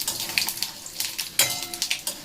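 Panch phoron spices crackle and sizzle as they hit hot oil in a pan, a close, loud run of sharp popping bursts and hissing while cooking for mini singara.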